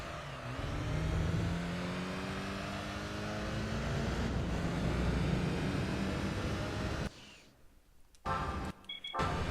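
A car engine at full throttle in the Gran Turismo racing game, a loud sustained roar with rising gear-by-gear pitch sweeps, then a sudden cut to near quiet with brief bursts at the end.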